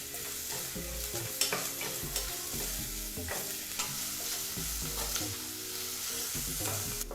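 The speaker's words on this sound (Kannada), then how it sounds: "ಬಿಸಿಯಾದಂಥ ಎಣ್ಣೆಗೆ ಈ ರೀತಿ ಬಹಳ ಚಿಕ್ಕದಾಗಿ ಕಟ್ ಮಾಡಿದಂಥ ಒಂದು ಈರುಳ್ಳಿನ ಹಾಕಿ, ಮೀಡಿಯಂ ಫ್ಲೇಮ್ನಲ್ಲೇ 2 ನಿಮಿಷಗಳ ಕಾಲ ಈರುಳ್ಳಿನ ಫ್ರೈ ಮಾಡ್ಕೋಬೇಕು" Finely chopped onion frying in hot oil over a medium flame, with a steady close sizzle and repeated scraping stirs of a spoon across the pan.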